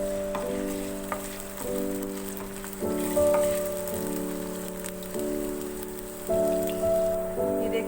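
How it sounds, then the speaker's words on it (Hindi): Garlic cloves fry in about two tablespoons of oil, making a steady, close crackling sizzle like light rain, with a soft tonal background running beneath it. "इनको थोड़ा सा ऑयल में फ्राई करेंगे।"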